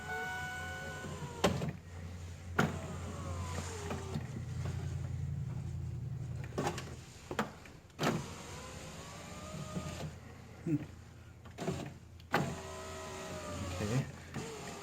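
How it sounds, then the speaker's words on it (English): A power window motor on a 2003 Ford F150 SuperCrew door runs up and down in repeated strokes, each a rising or falling whine between clicks and thumps, with a low steady hum beneath and no talking. "Make sure the window goes up and down properly."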